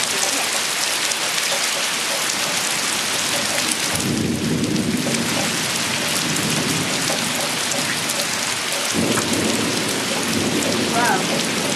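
Heavy rain pours steadily through a thunderstorm in Apex, North Carolina, loud and continuous with a deeper rumbling swell of thunder in the middle stretch, close by and without talk.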